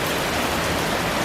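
Rain pours steadily outdoors while a 3rd gen Cummins truck sits under repair, a constant loud hiss of drops on surfaces with no voices.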